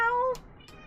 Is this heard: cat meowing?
yes